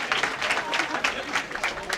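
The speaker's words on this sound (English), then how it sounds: "one more round of applause for all of our finalists here this morning" An audience at a girls' high school bowling team championship applauds the finalists with a steady patter of clapping, while a voice speaks over it.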